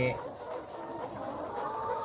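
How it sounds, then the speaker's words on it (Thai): Young laying hens cluck softly in a farm coop, scattered short calls close by and fairly faint, with someone talking over them. "อันนี้มันเป็นไก่สาวไก่พร้อมไข่"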